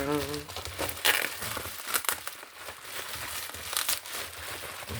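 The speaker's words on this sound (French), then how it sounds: "Je vais essayer de couper ça pour sortir ça." Crinkling plastic packaging of a cross stitch kit being cut and pulled open up close, irregular rustles and crackles while someone talks over them.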